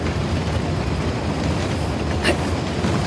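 A train in Uncharted: The Lost Legacy rumbles steadily and close, a continuous low rolling roar with a brief bright clank partway through.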